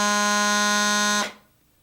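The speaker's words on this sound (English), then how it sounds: "play the low G by covering all the holes of the chanter" A bagpipe chanter sounds low G with all holes covered, a bright reedy sustained drone-like note with strong buzzing harmonics, loud and steady, then cutting off abruptly near the end with a short decay.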